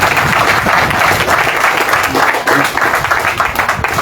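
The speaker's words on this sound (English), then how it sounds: "Clap more." An audience at a staff engagement meeting of an electricity company claps loudly and continuously, a dense, fluttering applause with slight swells, mixed with faint voices.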